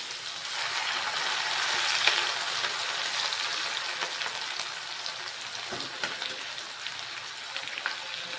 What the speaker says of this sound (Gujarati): ચલો તો સૌથી પહેલાં આપણે આને એડ કરી દઈએ અને સારી રીતે મિક્સ કરી લઈએ તેલમાં